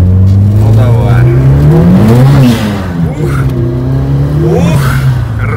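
A turbocharged VAZ 2108 accelerates hard with a loud, close engine whose pitch climbs, drops at a gear change, then rises again, while people talk over the noise.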